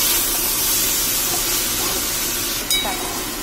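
Okra (vendakkai) sautéing in a pan for vendakkai kuzhambu, a steady close hissing sizzle that holds level throughout, with one brief sharp clink near the end.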